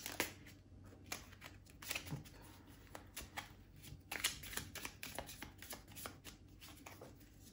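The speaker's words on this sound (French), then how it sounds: "On va recouvrir les cartes." Tarot cards being turned over and handled on a table, with soft, close card flicks and snaps in irregular bursts, quiet throughout and with no talking.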